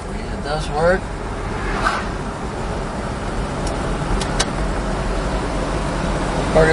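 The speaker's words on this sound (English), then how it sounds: "Car goes down the road real nice." A 1968 Buick GS 400 drives down the road, its engine rumble and road noise filling the background while someone talks over it from inside the car.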